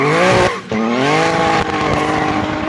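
A 1,300hp Nissan Altima drift car holds a long burnout at a drag race, its engine screaming at high revs over continuous loud tire squeal, with one brief dip before the roar resumes.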